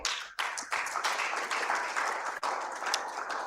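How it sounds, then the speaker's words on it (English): An audience at a project report and dashboard launch event claps for the project partners, a moderately quiet, steady patter of many hands continuing throughout the short stretch. "I think they deserve a round of applause."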